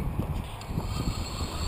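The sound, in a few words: wind outdoors during drone flight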